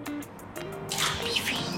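Cooking oil poured into a frying pan to coat the bottom before frying yam, a short wet trickling and dripping splash that grows brighter and fuller near the end, heard alone.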